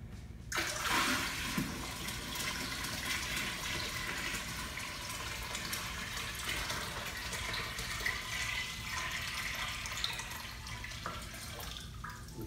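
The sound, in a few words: water pouring into aquarium tank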